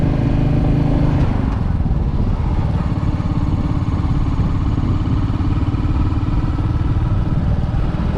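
Steady, loud engine and road roar from a motorcycle riding along a road, heard up close from the rider's position with continuous wind and drive noise and no talk.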